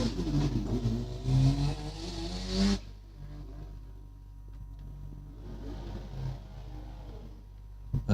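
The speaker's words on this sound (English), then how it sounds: "Another one of these Wankel engines, mate." A Mazda RX-7 with a rotary Wankel engine accelerates up a mountain hillclimb course, its high revving engine loud at first then cutting off and fading into faint distant engine noise, with no one talking.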